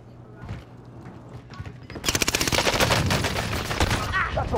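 Rapid automatic gunfire in a Call of Duty: Modern Warfare match bursts in after a quieter stretch and stays loud and dense to the end, sustained volleys with sharp repeated cracks close by.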